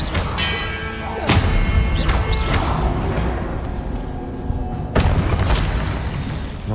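Confringo spell blasts thunder during a Hogwarts Legacy duel, heavy booms bursting out near 1 and 5 seconds over a constant wash of loud combat noise and crackling magic.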